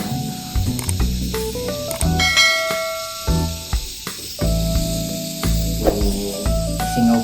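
A leaking WE Hi-Capa airsoft gas magazine hisses in steady, spraying bursts, joined by sharp mechanical clicks and ratcheting taps, fairly close and with no talking.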